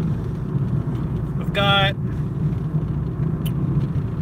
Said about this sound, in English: I am driving a 2013 Mazda 2